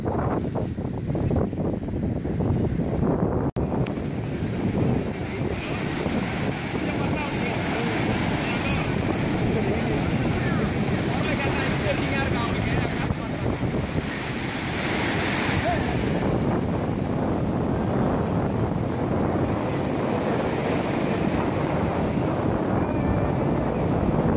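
Surf rolls steadily onto a big beach in Chennai, a continuous broad wash of breaking waves with heavy wind buffeting the microphone and faint voices mixed in.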